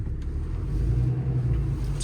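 A 2022 Ram 5500 4WD truck with a Cummins diesel engine, driving with a steady low rumble heard from inside the cab, fairly loud and without talk.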